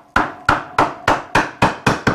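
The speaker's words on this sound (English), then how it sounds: "Break out the old plastic hammer and just" A plastic hammer taps a Honda CB450 motorcycle's gear selector parts in eight sharp, evenly spaced knocks, close and loud, with nothing else heard between strikes.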